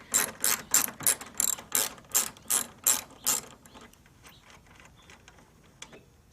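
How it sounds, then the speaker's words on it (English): A 10mm socket ratchet loosens headlight bolts on a 2013 Kia Soul, giving a quick run of about a dozen loud, close clicking strokes that then fade into softer, slower clicks. "I'm using a 10mm socket to get these two bolts off"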